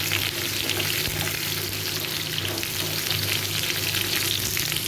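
Kakrol pieces fry in oil in a pan for a vegetarian paturi dish. A continuous near sizzle is broken by light stirring, with no voices.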